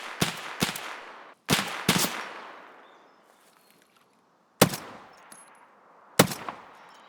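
Gunfire in the video game Escape from Tarkov: several sharp, loud shots in quick pairs, then single cracks spaced a second or more apart, each trailing off into a brief echo.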